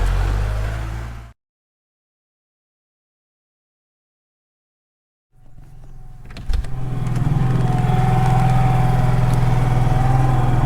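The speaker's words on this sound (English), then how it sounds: "Generator running, so we at least have a little bit of light in the house" A generator running at a house after an ice storm, a steady mid-pitched engine drone that cuts out into several seconds of silence, then returns louder after a sharp knock and keeps droning.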